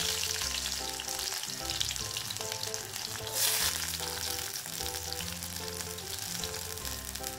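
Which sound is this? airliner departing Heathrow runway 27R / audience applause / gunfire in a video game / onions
onions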